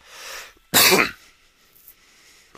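One sharp burst from a person with a cold, a cough or sneeze close to the mic, follows a soft breath and then fades into quiet.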